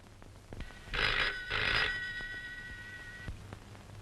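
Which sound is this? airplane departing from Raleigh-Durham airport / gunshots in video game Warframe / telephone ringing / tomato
telephone ringing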